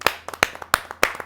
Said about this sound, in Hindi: आमंत्रित करता हूं मैं जोरदार तालियों के साथ